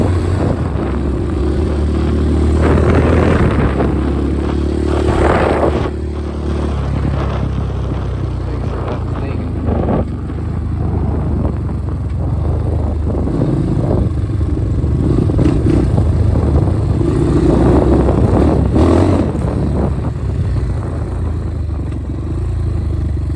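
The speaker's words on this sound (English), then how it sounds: "see how the quad's gonna do." A Yamaha Blaster quad on a trail ride, its engine droning loud and close with rises in revs and rattling clatter over rough ground.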